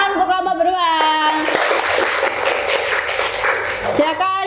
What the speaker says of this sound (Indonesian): tepuk tangan untuk kelompok beruang.